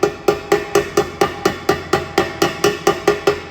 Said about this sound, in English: then we'll use the hammer